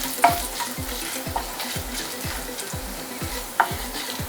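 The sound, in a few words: chili frying in a pan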